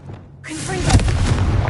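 A Confringo blasting curse explodes in the Hogwarts Legacy video game, a booming detonation that swells in and peaks loud and close, with a rumbling tail continuing afterward.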